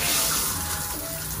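Water runs from a handheld shower head in a cramped hotel quarantine-room shower stall, a steady close hiss of flowing water with no talk.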